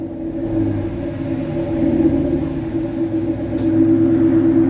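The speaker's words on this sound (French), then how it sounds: "C'est une Ford Mustang Boss 302." A Ford Mustang Boss 302 V8 idles nearby with a steady, deep low rumble that holds even and loud throughout.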